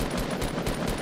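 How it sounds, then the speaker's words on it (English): Rapid automatic gunfire in the Fortnite battle royale video game, a continuous rattling burst of shots at steady volume with no talk. "They're shooting me."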